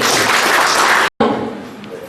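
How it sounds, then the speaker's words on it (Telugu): Loud, dense clapping from an audience at an achievers' celebration for a solar energy services company, cut by a brief dropout before continuing more thinly, with voices mixed in. "ఒక్కసారి మన అతిథుల కోసం ఒక్కసారి గట్టిగా క్లాప్స్ అండి."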